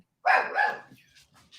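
A dog barks twice close by in quick succession, loud and alone, then fades into faint murmuring in the room.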